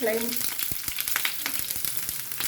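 Shallots sizzle and crackle in hot oil, with irregular pops over a steady frying hiss, close up, after a brief voice at the very start.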